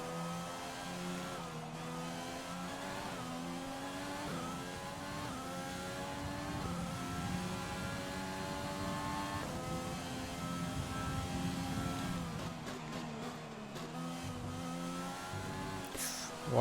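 F1 race car sliding on a slippery wet track in the F1 2020 video game, its engine whining and revving up and down continuously at moderate volume, with someone talking over it.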